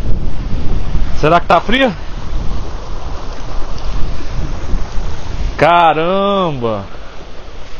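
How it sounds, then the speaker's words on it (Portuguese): Waterfall in Iceland, a steady broadband roar of falling water running loud and unbroken throughout, with wind buffeting the microphone and two short bursts of excited speech over it. "Tamanho dessa cachoeira, pai."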